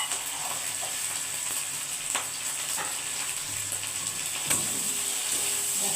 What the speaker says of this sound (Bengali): আমি ছোটো চামচে 1 চামচ 5 ফোড়ন দিয়ে দিচ্ছি।